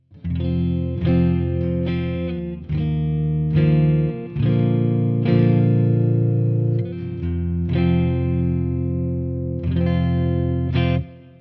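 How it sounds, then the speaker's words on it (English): Distorted electric guitar on its neck humbucker through an amp, rich and warm, strummed chords ringing out in a steady sequence with a brief pause before the final hits. "So here's the neck humbucker full on."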